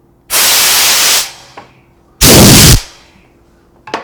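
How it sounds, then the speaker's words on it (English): A Coil House air blowgun fires two loud, close bursts of hissing compressed air, each lasting about a second, separated by a short pause. "I'll blow it off with my blowgun, which I have right here."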